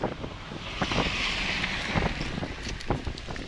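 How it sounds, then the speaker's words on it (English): Strong wind blowing from the north on an outdoor trail, buffeting the microphone in a continuous rough roar with gusty bumps and scattered thuds. "Really glad the wind's strong out of the north."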